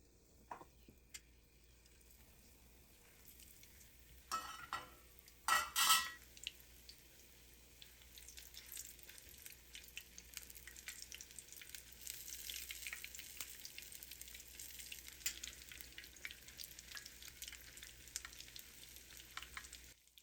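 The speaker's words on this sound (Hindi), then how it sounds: "उसके बाद फिर बड़ों का बैटर डाल के तलना शुरू करी।" Dahi vada batter fries in hot oil in a kadai, giving a soft, continuous bubbling sizzle with a few louder splashes and clatters early on, heard alone without talk.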